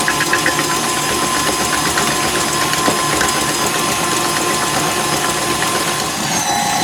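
An electric mixer whips cake batter with eggs in a blueberry cake recipe, producing a loud, steady mechanical whir with a rattling knock that runs without pause.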